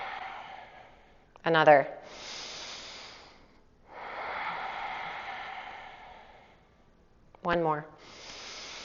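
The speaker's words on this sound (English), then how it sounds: "we'll take 3 deep breaths. Inhale and exhale" Deep yoga breaths, each slow inhale and exhale heard as a soft airy hiss, repeated in long even cycles, with short spoken cues between them.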